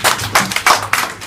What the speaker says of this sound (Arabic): صفقوا له صفقوا له البطل